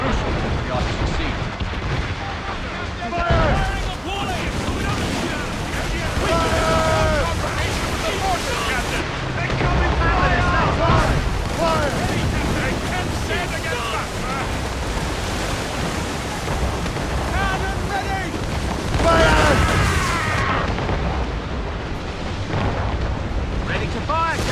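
Ships trade mortar and cannon fire in the naval battles of Assassin's Creed Rogue, a continuous barrage of deep booming blasts and rumbling explosions, loud and close, with voices shouting orders over the din.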